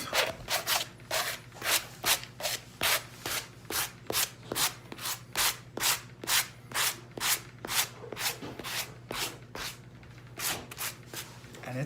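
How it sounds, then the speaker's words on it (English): A sanding block rubs loose chips off a finished concrete pumpkin in steady, rhythmic back-and-forth strokes, about two per second, close and alone over a low constant hum. "Now I'm just gonna take my sanding block, just kind of release some of these loose chips."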